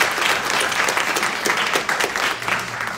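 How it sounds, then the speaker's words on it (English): An audience at a homeownership presentation breaks into a dense, steady round of applause, many hands clapping together at a fairly close, even loudness throughout. "Can we give them a big round of applause?"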